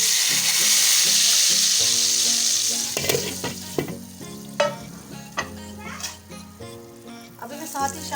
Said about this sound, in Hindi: ये लगा दाल में तड़का